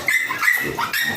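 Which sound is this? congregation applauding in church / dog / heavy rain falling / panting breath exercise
dog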